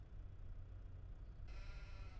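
Sheep in the Farming Simulator 25 video game bleat faintly over a low rumbling farm ambience, with a brighter hiss joining partway through.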